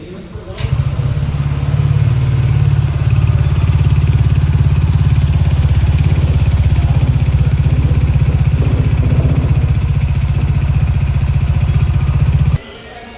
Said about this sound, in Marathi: आत्ता आपण याचा एक्झॉस्ट नोट ऐकूया